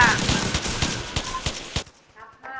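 Rapid gunfire from enemies in a Roblox zombie game, a loud burst of repeated shots for under two seconds, then a quieter pause with faint game sounds; an excited voice talks over it.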